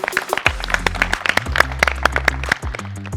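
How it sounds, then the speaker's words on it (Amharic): Warm applause for children who scored full marks in a maths abacus program in Butajira, a steady patter of many hands clapping together for several seconds with a low hum underneath. "እስኪ ለራሳችሁ ሞቅ ያለ ጭብጨባ"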